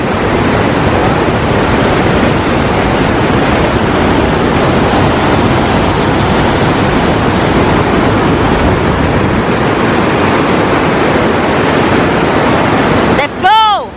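A loud, steady roar of glacier meltwater falling at Briksdalsbreen in western Norway fills the whole stretch, like a big waterfall heard close by, with a brief tonal sound at the very end.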